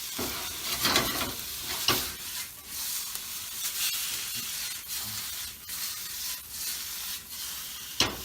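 Raw shrimp sizzle and fry in a hot pan, a steady hiss broken by several sharp scraping stirs, close and moderately loud with no talking.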